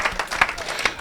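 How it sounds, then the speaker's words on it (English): Audience applause at a public talk, a steady patter of many hands clapping at moderate volume with no voices over it. "Let's give Adam a round of applause"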